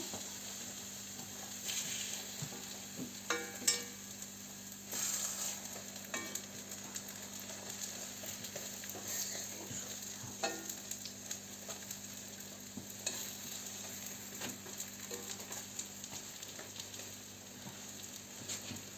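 Quiet, steady sizzling of apple pancake batter frying in oil, with occasional clinks and scrapes of a utensil against the pan.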